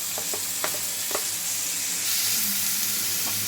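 Onions and tomatoes fry in oil in a pan on the stove for a dried-shrimp tomato curry. A steady close sizzle runs throughout, with a few sharp spoon-against-pan clinks early on. No voices.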